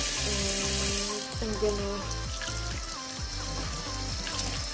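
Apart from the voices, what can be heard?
water running in a sink while rinsing silverside beef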